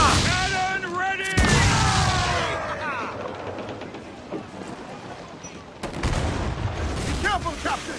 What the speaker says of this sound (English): Fire! Cannon ready!